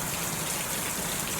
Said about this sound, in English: Listen to the rain.